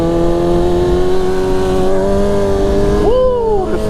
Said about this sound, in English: This bike has GT shift, so you kind of got to think about your gear shift for like the first couple seconds while we're riding.